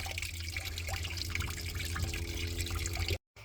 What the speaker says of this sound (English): Coolant's pretty much done dripping out